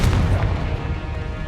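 A Confringo fire blast spell cast in Hogwarts Legacy, a loud, deep booming burst that lands hard at the start and then rumbles on steadily without letting up.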